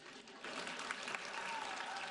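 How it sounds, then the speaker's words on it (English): Audience at a 2019 high school graduation claps steadily, a dense even wash of applause that holds at a fairly quiet level throughout. "Desiree, clap some more."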